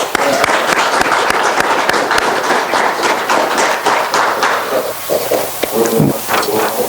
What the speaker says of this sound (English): We give them a round of applause, folks.